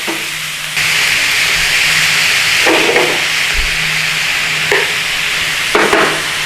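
Bacon frying in a pan without added oil gives a loud, steady sizzle and hiss, broken by a few soft knocks and shifts as the strips settle in the pan.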